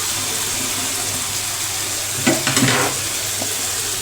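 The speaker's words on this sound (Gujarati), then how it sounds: "હવે આપણે તેમાં પાણીને નાખી દઈશું." Hot water poured from a second burner into a sizzling Gujarati fenugreek seed curry (methi dana shaak) on a gas stove, giving a short burst of splashing hiss over steady frying noise.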